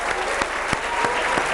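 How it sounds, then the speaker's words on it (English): Schoolchildren at Vasant Valley School give a round of applause, heard as a brief wash of clapping with a few sharper, distinct claps standing out. "Can we have a huge round of applause, kids?"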